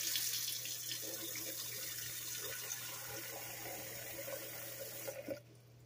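Tap water runs steadily into a container being filled for tea, a continuous broadband rush with faint clinks over a low hum, cutting off abruptly near the end.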